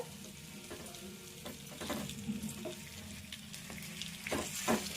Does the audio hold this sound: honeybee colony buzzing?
no